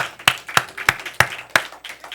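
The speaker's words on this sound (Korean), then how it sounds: "하나님께 우리 영광의 박수 올려드립시다" A church congregation claps in a steady rhythm, with about six or seven distinct sharp claps spaced evenly and ringing in the hall, and no talking over them.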